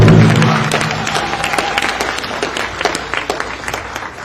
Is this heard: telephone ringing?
no